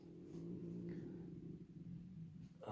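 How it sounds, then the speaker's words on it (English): A dog gives a low, rumbling growl indoors, faint and steady with a tonal, purr-like quality, ending in a brief sharp noise. "That was my dog making that noise, by the way."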